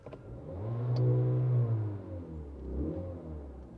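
A 2023 VW Polo GTS hatchback, with its artificial engine sound set to sport mode, revs twice. Two smooth, fairly quiet swells rise and fall, the first longer, inside the cabin.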